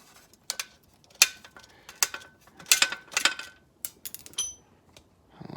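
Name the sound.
Allen key removing dust shield bolts on Jeep JL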